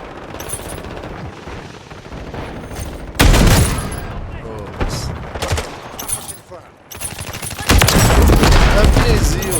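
Rapid sniper rifle gunfire in the Call of Duty Modern Warfare 3 video game, loud sharp bursts and booms with a heavy blast near the middle and another late, under intermittent talk.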